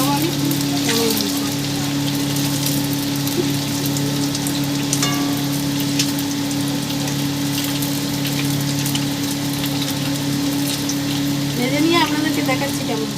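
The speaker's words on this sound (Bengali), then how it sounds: "দেখুন এইভাবে হালকা করে ভেজে নেবো" Potato-stuffed bread rolls fry gently in oil, a constant close hiss like heavy rain with a steady low hum beneath it and a few faint clinks.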